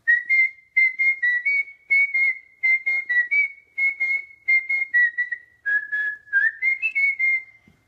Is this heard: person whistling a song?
yes